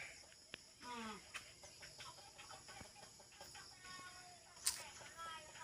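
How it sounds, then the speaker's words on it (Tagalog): Chickens cluck and a rooster calls faintly amid rural outdoor ambience, with insects and a person talking quietly nearby. "Ayan yung mga manok, oh."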